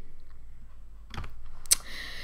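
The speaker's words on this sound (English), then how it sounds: "hit enter on your keyboard" An enter key struck on a computer keyboard during image-editing work: a soft key tap followed by a sharper, louder click, close and isolated against a quiet room.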